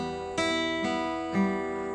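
A fingerpicked acoustic guitar with the thumb on the low sixth string, sounding three sustained, ringing note attacks roughly half a second apart, close and clear with no voice.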